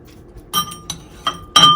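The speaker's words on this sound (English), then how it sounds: "Chop those up a little bit more." Boiled eggs being chopped up in a bowl for Old Bay egg salad, giving a few sharp glassy clinks of a utensil against the bowl, spaced irregularly and close by, with no talk.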